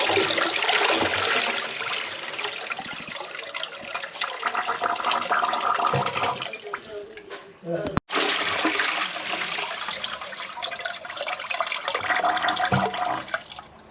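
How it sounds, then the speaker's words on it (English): A toilet flushes after a drain blockage has been jetted clear, water rushing loudly and gurgling for several seconds, then a brief break and a second surge of filling water, with a voice faintly underneath. "the toilet's flushing lovely"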